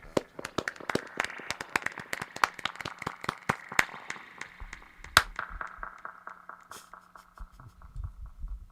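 A dub clap effect on a radio show plays as a rapid train of sharp echoing claps with a reverberant tail, loud at first and then thinning out, with a faint low hum underneath.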